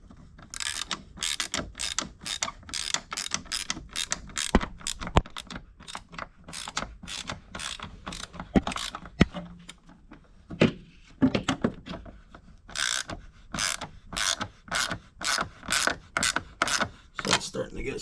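A ratchet wrench clicks in quick repeated bursts while tightening 10 mm battery tie-down nuts on a Nissan 350Z, close and crisp, pausing briefly midway before resuming.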